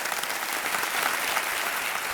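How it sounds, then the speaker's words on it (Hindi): Studio audience at a KBC quiz show clapping steadily, a dense even patter of many hands held at a constant moderate level throughout. "एक बार फिर तालियों के साथ हम अभिनंदन करते हैं।"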